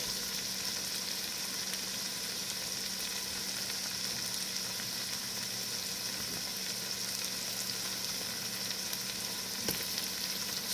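Ital ackee fries in a pan with tomato just added, a steady close sizzle and crackle running unbroken, with a faint stirring scrape near the end and no talking.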